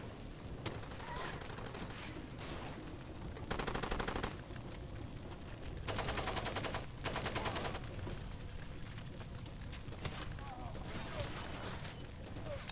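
Automatic weapons fire in bursts in the video game Far Cry 2, with several loud rattling volleys over a busy background, and someone talks at times.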